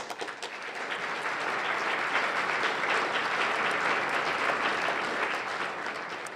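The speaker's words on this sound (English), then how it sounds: "Please join me in thanking them with a warm round of applause." Audience at a civic club's Friday forum breaks into a warm round of applause, a dense, steady wash of many hands clapping that fills the room for several seconds before tapering slightly.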